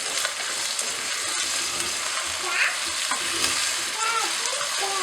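Cut potatoes fry in a pan for vegetable masala Maggi, giving a continuous soft hiss with light scraping stirs and a few faint clinks, close and with no talk.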